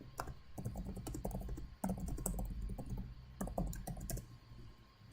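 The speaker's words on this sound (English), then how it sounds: "I'm just typing a comment for a second there." Quick bursts of typing on a computer keyboard, close and fairly quiet, with uneven rhythm of rapid key clicks separated by brief pauses, heard alone without speech.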